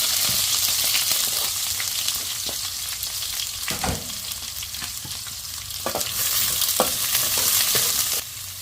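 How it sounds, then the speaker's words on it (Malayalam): Chopped onion, ginger and green chili sizzle steadily in a hot oiled pan, with occasional louder crackles and spatula stirs scraping throughout, close and continuous. "അപ്പം നമുക്ക് നമ്മൾ അരിഞ്ഞു വെച്ചിരിക്കുന്ന സവോളയും ഇഞ്ചിയും പച്ചമുളകും കൂടി അങ്ങോട്ട് ഇട്ട് കൊടുക്കാവേ"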